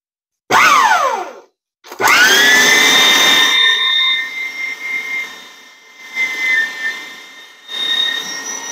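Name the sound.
electric meat grinder grinding chicken thigh and breast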